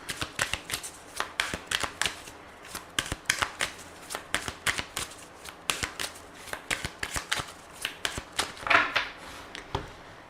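Aphrodite oracle cards are shuffled by hand close up. Crisp, rhythmic riffles and slaps repeat steadily for about ten seconds, with no voice over them.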